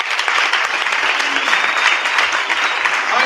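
Dense, loud audience applause filling the room, steady and continuous with a faint murmur of voices beneath.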